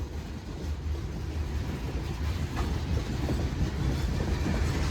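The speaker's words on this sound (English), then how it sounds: "Man, this is a big train." A slow-moving Union Pacific freight train rolls past at about 10 mph, producing a continuous, close, steady low rumble of heavy railcars with faint clickety-clack and wheel noise throughout.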